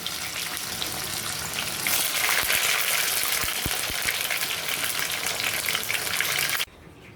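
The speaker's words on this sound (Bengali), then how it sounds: "এইভাবে আপনারা একে একে সবগুলো খুব আস্তে আস্তে ডিপ ফ্রাই করে নিতে হবে" Beef tongue pieces deep frying slowly in hot oil, a steady loud crackling sizzle with a few louder pops midway, continuing without voices until it cuts off abruptly near the end.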